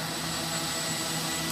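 A Walkera QR X350 quadcopter drone flies nearby, giving a continuous, even, whining whir of spinning rotors that stays steady throughout and has no talk over it.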